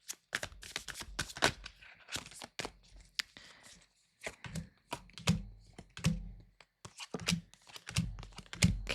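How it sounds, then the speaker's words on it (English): A tarot deck shuffled by hand, close and crisp, with repeated short riffles and soft thumps of the cards knocking together in an uneven rhythm, no voice over it. "shuffle one more time"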